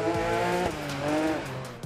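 A Porsche 911 street car in the Dirt Rally 2 racing game revs and shifts through gears, its engine note rising and dropping quickly, with a brief tire squeal.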